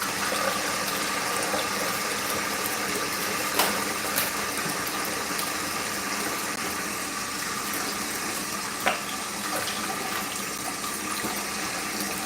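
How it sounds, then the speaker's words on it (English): Tap water runs steadily into a kitchen sink as raw steak is rinsed under it, a continuous hissing splash with a couple of brief knocks, no voices. "Yes, I like to rinse my meat."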